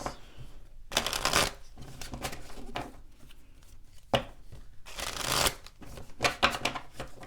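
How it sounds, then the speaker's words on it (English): Tarot cards being shuffled close by in several brisk riffling bursts separated by short pauses, crisp and papery, with no talk over them. "We're going to pull some final cards."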